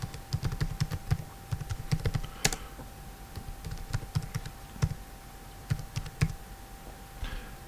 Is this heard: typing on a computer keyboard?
yes